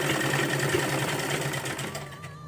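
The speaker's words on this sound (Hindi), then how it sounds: "आप यहाँ पर सिलाई लगा दीजिए" Domestic sewing machine running steadily while stitching salwar fabric, a continuous close mechanical whir with rapid needle rhythm that eases slightly near the end.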